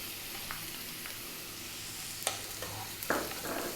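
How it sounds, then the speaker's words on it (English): Onion and ginger frying over high heat, a quiet steady sizzle with a few sharp scrapes and clinks of a utensil toward the end, close but faint, no talking. "A few seconds, then in goes the onion."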